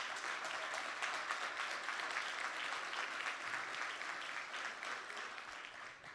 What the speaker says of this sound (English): I just want to give a round of applause to these coaches that you see on your screen.